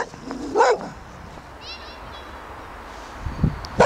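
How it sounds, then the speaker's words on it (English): A Springer Spaniel gives a couple of short barks amid background noise, one early and another near the end, with some quiet chirps in between. "trying to teach him not to bark"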